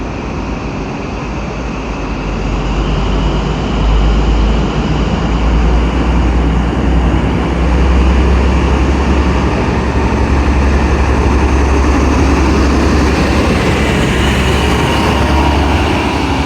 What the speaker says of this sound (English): Departing now is Midland Pullman